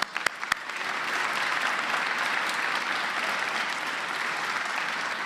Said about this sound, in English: let's give everyone that I mentioned already a round of applause